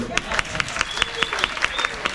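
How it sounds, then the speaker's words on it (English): Audience at a comedy roast applauding a performer, a mix of claps with some sharper hand strikes and a few voices over the crowd noise, fairly close and steady for a couple of seconds. "on peut l'applaudir"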